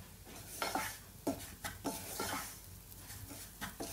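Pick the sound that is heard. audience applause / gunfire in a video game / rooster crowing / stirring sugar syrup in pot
stirring sugar syrup in pot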